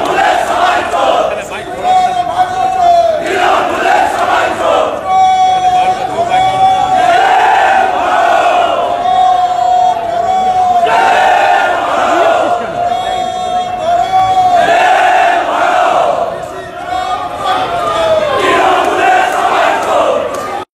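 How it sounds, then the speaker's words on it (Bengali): BJP legislators seated on the assembly steps chant slogans against the ruling party, a loud, continuous crowd chant with rising and falling rhythmic calls that fills the whole stretch without pause. "শাসক দলের বিরুদ্ধে সরাসরি স্লোগান দিতে থাকেন বিজেপির বিধায়কেরা।"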